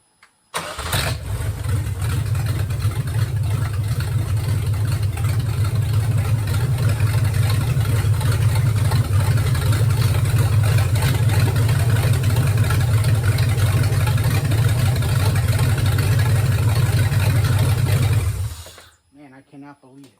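An LT1 V8 running an LS PCM in a 1961 Rambler cranks and catches, then holds a loud, steady, rumbling idle for about eighteen seconds before shutting off, with voices talking over it.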